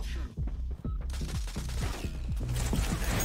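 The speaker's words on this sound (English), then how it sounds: "Oh, somebody's shooting." Gunfire in a shooter video game, repeated volleys of sharp shots in a steady, fast rhythm, loud and continuous, with some speech underneath.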